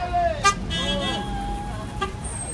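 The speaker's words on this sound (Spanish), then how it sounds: "hay mucho escándalo por el claxon de los vehículos." Car horns toot repeatedly in a busy street during a protest in Nogales, Sonora, short honks over steady traffic noise while someone talks continuously in the foreground.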